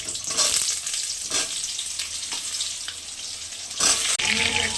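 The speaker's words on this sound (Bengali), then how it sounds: "এবার পটলগুলো ভেজে নেব" Pointed gourd (potol) frying in hot oil in a home kitchen, a steady close sizzle with a few louder bursts of crackle and stirring, no talking.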